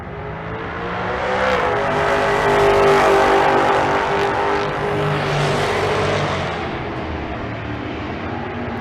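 An 1983 Malibu wagon and a GTO drag racing side by side down the strip at Bandimere, with loud engines roaring hard, revving up and sustaining a heavy blaring drone as they pass.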